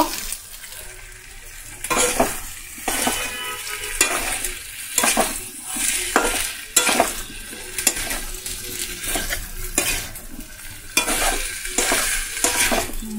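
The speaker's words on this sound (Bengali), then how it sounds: "দিয়ে ভালো করে নাড়াচাড়া করে নেব" Boiled jackfruit and potatoes fry in a pan while a spatula stirs them, giving a busy sizzle broken by regular scraping and clattering strokes against the metal, loud and close, with no voices.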